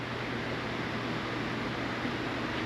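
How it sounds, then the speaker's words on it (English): Electric fans running up on an auction stage give a steady, even broadband whoosh with a low hum, constant and unbroken throughout, with no voices over it. "It's all the fans going. We're trying to stay cool up here."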